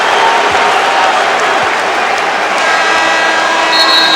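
Arena crowd at a 1989 La Salle versus Florida State college basketball game keeps up loud, steady applause and cheering, a dense roar with a few sharp squeaks from the court.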